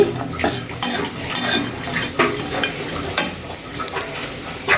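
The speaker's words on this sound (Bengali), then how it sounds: "তো দিয়ে আমি শুটকিটা ভেজে নিচ্ছি হালকা করে" Dried fish (shutki) frying lightly in a pan over medium heat, a close, loud crackling sizzle with repeated scraping and clinking of a spatula stirring against the metal, no talking.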